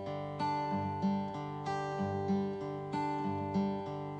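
Acoustic guitar picked fingerstyle, the thumb alternating bass notes with three fingers on the treble strings in a steady, even pattern, played clearly and alone.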